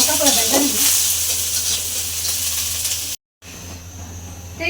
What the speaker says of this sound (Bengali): দেখেন চাপা মাছটা কিন্তু ভেজে ফেলছি